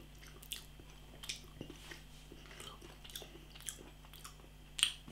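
Quiet close-up chewing of McDonald's Canadian Stack cheese, with soft wet bites and squishes at irregular intervals and one louder smack near the end.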